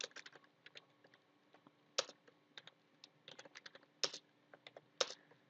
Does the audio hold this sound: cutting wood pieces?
no